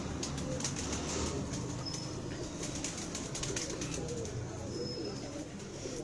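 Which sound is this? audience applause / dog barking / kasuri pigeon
kasuri pigeon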